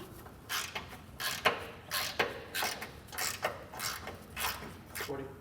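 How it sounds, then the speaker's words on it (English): Wrench and socket loosening the bump stop bolts from factory weld nuts on a 2015 Toyota 4Runner, a steady run of rhythmic metallic ratcheting bursts, close and clear, with no speech. "So just grab your wrench and socket and get those removed."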